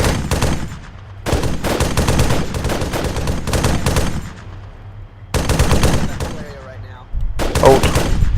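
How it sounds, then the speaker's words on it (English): Long bursts of machine-gun fire during platoon field training, fired across trees and brush, loud and close, in several sustained volleys separated by brief pauses with faint calls in between. "Shoot the burst across those trees. Front, right. Solid copy, opening fire through the brush."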